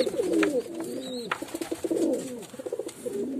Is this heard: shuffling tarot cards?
no